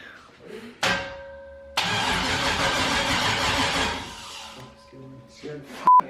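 An LS V8 swapped into a BMW E36 cranks with a short whine, then catches and roars to life with a loud, rough idle for a couple of seconds before dying down, with brief voices and clatter afterward.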